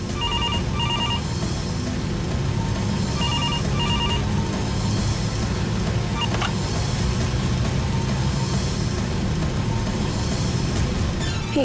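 A telephone rings in repeated double trills, fairly loud, over a steady rumble of passing traffic.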